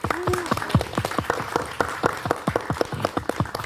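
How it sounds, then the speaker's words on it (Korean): Audience at a press conference for a new MBC daily TV drama breaks into applause: a run of distinct, fairly close hand claps from a modest crowd, with a short vocal sound at the start. "잘 되고자 하는 우리 영혼의 모습 박수 한번 칠까요?"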